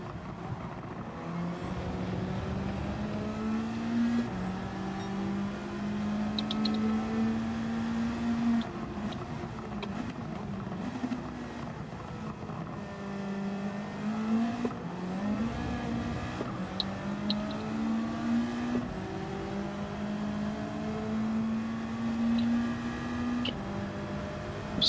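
A race car in Gran Turismo 7 daily online races, its engine revving loud and steady through repeated gear changes and throttle lifts, with occasional tyre squeal and no talking.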